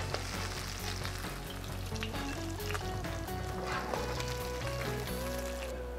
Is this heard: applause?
no